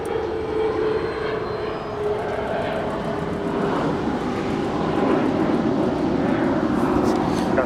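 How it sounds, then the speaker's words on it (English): A United Express CRJ 700 ER jet departs Los Angeles International Airport, its engines a broad, steady roar that swells slightly louder toward the end, heard from a distance with no talk. "That is United Express flight 5634 departing to Aspen. That's a CRJ 700 ER."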